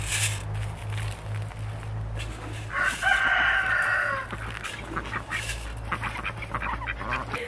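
A rooster crows loudly and close by in a backyard flock of hens, its call rising above ongoing clucking and other fowl noises, with a low steady hum underneath.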